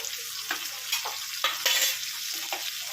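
Onion hits hot oil already fragrant with tempering spices, a continuous close hiss of frying with occasional soft stirring scrapes, no voices.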